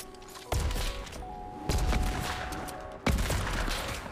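Sniper rifle shots in Fortnite: three loud, widely spaced cracks with booming low tails ring out over faint game ambience.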